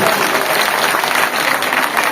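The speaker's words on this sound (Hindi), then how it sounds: "जोरदार ताली।" Loud, sustained applause from an audience at the opening ceremony of a Ramlila stage event, a dense continuous clatter of clapping filling the whole stretch without a break.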